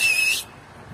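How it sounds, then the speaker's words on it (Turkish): A person gives one short, high, clear whistle to call someone outdoors, loud at first and then cut off, leaving a quiet background. "Bir ıslık çekeyim de gelsin."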